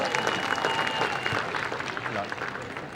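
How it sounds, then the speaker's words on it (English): Stadium crowd applauding child mascots running off the field before a Kookaburras versus India hockey match: broad, sustained clapping and crowd noise with a voice speaking over it and a faint tone in the background. "Big round of applause for our mascots as they run off the field."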